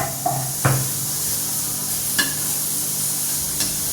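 Onion roasting in a pan gives off a soft, steady sizzle with faint hiss, broken by a few light clicks and scrapes of stirring, with no voices.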